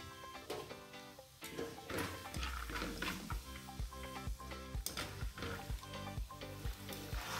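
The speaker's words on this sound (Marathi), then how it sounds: "शेंगदाणे, डाळवा हे आपल्याला यामध्ये तळून घ्यायचे आहे।" Peanuts and roasted split chickpeas frying in hot oil for crispy chivda, a sizzle beneath loud rhythmic music with a steady beat that largely masks it.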